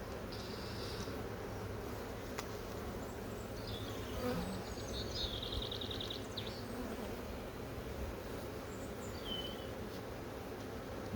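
Bees from an opened hive colony buzz in a constant busy drone, with occasional higher whines of individual bees passing close.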